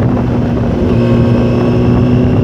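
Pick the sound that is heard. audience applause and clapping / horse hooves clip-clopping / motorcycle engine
motorcycle engine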